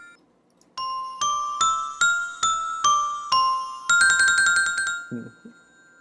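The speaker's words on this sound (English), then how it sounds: "It's a Hanna-Barbera door sound." Doorbell chime in the Winnie the Pooh and the Honey Tree Animated Storybook game: a bright, loud tune of ringing tones, struck several times in a steady rhythm before a quicker trilling burst, heard alone and clean.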